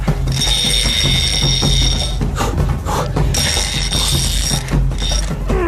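A fishing reel's drag ratchets continuously as a giant freshwater catfish pulls line on a river, a dense, loud mechanical clicking with a steady pitched whine that breaks off briefly and resumes.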